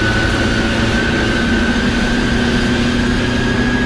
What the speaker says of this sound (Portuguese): Olha o barulho do motor do Rodrigues,